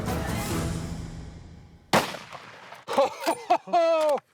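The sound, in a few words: rifle gunshot during lesser kudu hunt in Tanzania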